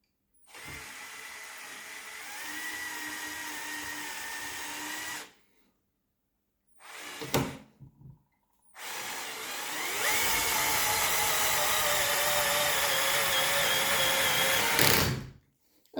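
A power drill fitted with a Parkside right-angle drill bit holder drives a larger screw, whirring loudly in three bursts, a long run, a short stuttering pull, then a longer run that strains as the screw seats.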